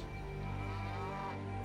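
Cows mooing in the strategy game Civilization V, a steady sustained lowing heard over a continuous game soundtrack with no talking.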